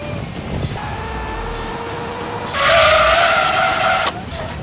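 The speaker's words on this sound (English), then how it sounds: "Oh my god, look at how violent the oversteer is." Tires of an F1 car in a video game skid and squeal through violent oversteer, a loud sustained screech over the engine note that rises sharply midway and cuts off abruptly. No voices.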